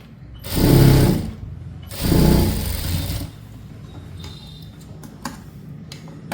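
A sewing machine runs in two short bursts while stitching churidar pant fabric, each burst lasting about a second, with quiet handling and faint clicks in between.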